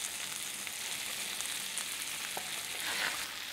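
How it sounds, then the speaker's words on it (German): A cod fillet fries in butter in a pan, giving a steady, even sizzle throughout at close range, with no talk. "Jetzt übergießen wir den Kabeljau ein bisschen mit dieser Butter."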